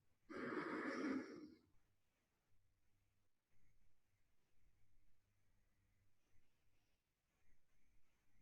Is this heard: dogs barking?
no